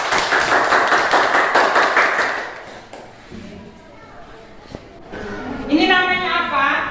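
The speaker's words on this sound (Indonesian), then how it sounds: "Tepuk tangan untuk Angel" A classroom of children claps in rhythmic, unison beats for a classmate named Angel for about two seconds, followed by quieter moments and then a teacher and children speaking.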